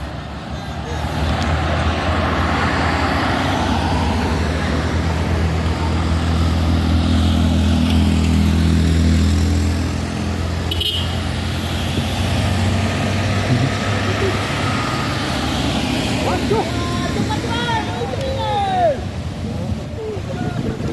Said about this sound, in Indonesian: sambil menunggu truk pau tadi ditarik dengan truk trailer Isoteng